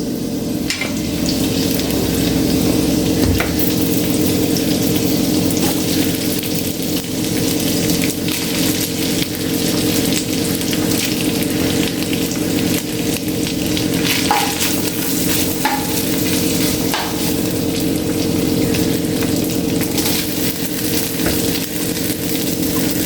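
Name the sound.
cooked rice added to pan and stirred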